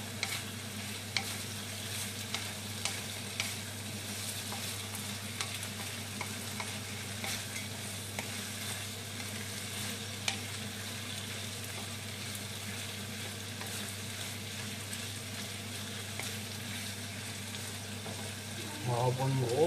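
Carrots and peppers sizzle steadily in a frying pan alongside lardons, with a continuous close crackle and faint utensil ticks as the vegetables are stirred, with no voice over the frying.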